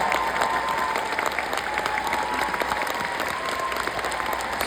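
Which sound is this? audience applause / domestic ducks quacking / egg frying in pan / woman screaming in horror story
audience applause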